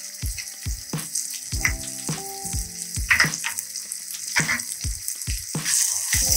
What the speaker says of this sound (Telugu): ఇది కొబ్బరి పేస్ట్ వేసేసుకుంటున్నాను.